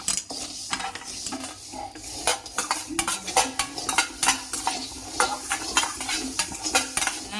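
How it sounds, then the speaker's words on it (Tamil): Grated coconut dry-roasts in a pan for Diwali kettu urundai sweets, while a metal spoon stirs and scrapes it in quick, busy strokes. The close clinks and rasps come with a faint sizzling hiss beneath. "தேங்காயை சேர்த்து வறுத்துக்குவோம்."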